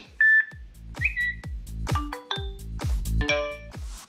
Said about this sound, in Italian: se dovesse arrivarci una notifica, questo smartwatch suona